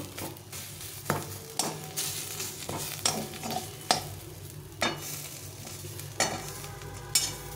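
Crushed fried chili is stirred into a mashed bhorta in a pan. A spoon scrapes and knocks in a steady rhythm, roughly every second, over a soft continuous frying hiss, with no voices.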